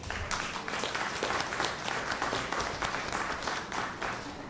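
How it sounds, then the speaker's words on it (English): Applause fills a council meeting room in Trinidad, a steady, even wash of clapping from the gathered audience that holds level throughout, moderately distant and fairly quiet. "we have to give our Councillor Vidya a round of applause for this."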